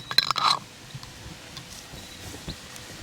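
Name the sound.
lid put on a glass jar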